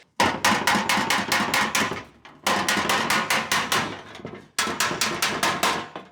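Rapid, sharp hammer blows ring on metal against a dolly in three quick runs of about eight strikes each, loud and close, while restoring a 1962 Cadillac Series 60 Fleetwood fender skirt.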